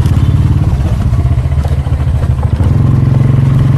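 Loud, close motorcycle engine idling and revving in a steady throaty putter while crossing a hanging bridge, with rattling clatter from the bridge deck underneath.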